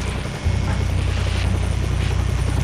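A military helicopter in Splinter Cell Blacklist lifts off from a chopper pad, a steady loud rotor thump and engine drone that swells in after a brief dip and continues close by.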